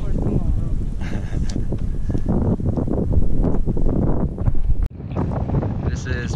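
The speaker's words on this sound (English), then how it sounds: "But it's nice and windy." Steady wind buffeting the microphone on top of Quitasol mountain near Medellin, Colombia, a constant rushing roar with gusts, while people talk over it; the noise cuts out briefly near the end.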